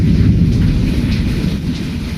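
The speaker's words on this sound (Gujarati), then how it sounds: "આખા મોરબીમાં હે વરસાદના કડાકા ભડાકા જોરદાર" Heavy rain with thunder during a storm in Morbi at night: a dense, loud roar of rainfall with deep rumbling underneath, continuous throughout.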